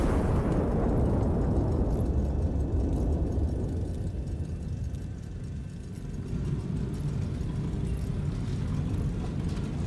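A big artillery gun fires in the Ace Combat-style game Iron Nest, a loud booming blast that rolls into a long, heavy rumble and fades over several seconds, with no talk.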